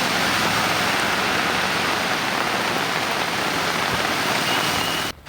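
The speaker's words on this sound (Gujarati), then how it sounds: "જ્યાં એક જ કલાકમાં ધોધમાર વરસાદ વરસ્યો" Heavy monsoon downpour in Tamil Nadu, a dense, steady roar of rain pounding hard surfaces close by, unbroken for several seconds before briefly dropping off at the very end.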